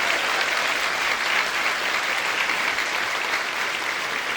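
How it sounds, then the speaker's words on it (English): Audience applause for the musicians at a school show, a continuous even roar of many hands clapping at close range with no voices on top, steady throughout. "So big round of applause for our musicians."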